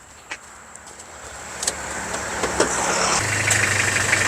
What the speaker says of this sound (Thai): สตาร์ทฟังเสียงเครื่องยนต์กันหน่อยครับ